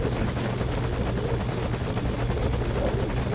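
A helicopter in Metal Gear Solid V thrums steadily at close range, its rotor beat and engine drone holding constant throughout with no voices.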